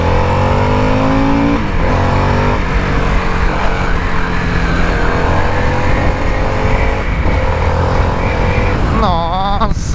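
A 2023 Harley-Davidson Sportster S 1250 motorcycle engine revving loud and close, a steady deep rumble rising and falling in pitch with throttle changes, with wind noise throughout.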